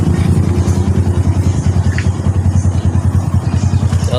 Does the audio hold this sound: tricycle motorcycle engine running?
yes